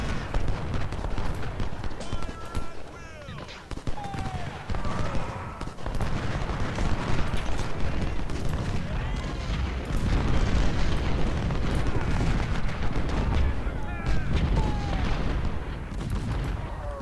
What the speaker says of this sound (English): I am going to redirect fire of our artillery